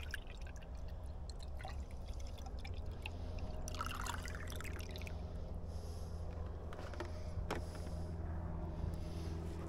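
Freshly pressed sugarcane juice is poured into a jug, with a steady, close trickle and splash of liquid and a few clinks over a constant low background hum.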